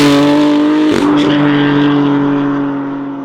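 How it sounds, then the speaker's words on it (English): A 700hp BMW F82 M4 with a DCT gearbox revs hard with a steady engine drone, then a sharp upshift breaks it near the one-second mark before the engine resumes and slowly fades, loud and close. "It's just so satisfying to change gear with these. Just the noise just makes you feel like you're playing a video game."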